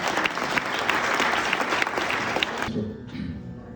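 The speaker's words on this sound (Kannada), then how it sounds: "ದಯವಿಟ್ಟು ಜೋರಾದ ಚಪ್ಪಾಳೆ ಬರಲಿ." Loud, dense audience applause at a live stage event, a continuous wash of clapping that drops off abruptly near the end and leaves a faint room tail.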